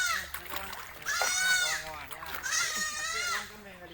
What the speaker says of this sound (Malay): Anak-anak kambing.